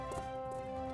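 Horse hooves clip-clopping at a steady, close pace, soft and a little muffled, with no one talking over them.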